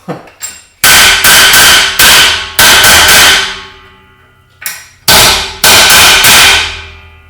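Loud metal hammer blows ring out on a thick steel jaw of a Triton SuperJaws XXL SJA 300 used as an anvil, with sharp clanging strikes in quick bursts of three or four, each leaving a ringing decay, separated by short pauses.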